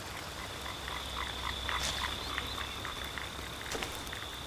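Frogs croak in a Madagascar rainforest during rain, a dense chorus of rapid, repeated calls holding steady throughout alongside a constant high insect-like tone and soft patter of raindrops.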